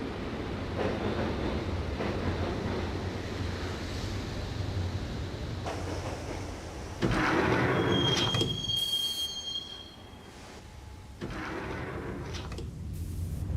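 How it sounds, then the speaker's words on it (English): A subway train in the Max Payne video game rumbles steadily along the rails, with wheels squealing shrilly partway through and a rushing surge as it passes, all heard without talk. "the train doors had already shut behind me, and I was in for the ride"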